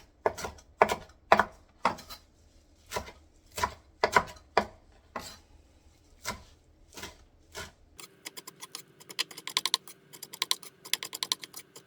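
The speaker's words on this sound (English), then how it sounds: "I think I'm just gonna chop it by hand." A knife chops food by hand on a board, with a series of distinct knocks at an irregular pace for several seconds, then a faster, denser patter of light taps. Close and clear, with no talk.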